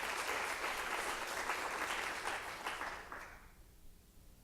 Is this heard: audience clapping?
yes